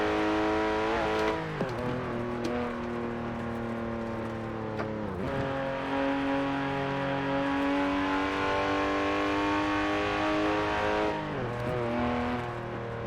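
A car engine in Forza Horizon 4 revs loud and close, climbing in pitch through repeated gear shifts with sharp drops between them, no voices present.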